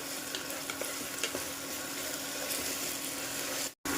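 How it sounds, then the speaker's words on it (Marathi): Onion and tomato sautéing in a pan for a potato curry, a steady close sizzle with occasional soft stirring scrapes, continuous and even until a brief dropout near the end. "कांदा आणि टोमॅटो परतला गेलाय"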